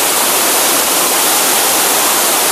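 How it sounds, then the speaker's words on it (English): Rushing water from mill channels and great falls on the River Clyde at New Lanark, a steady, loud, unbroken broadband roar with no voices over it. "It's quite hard to get away from the sound of water in New Lanark, whether from channels like this or great falls on the River Clyde."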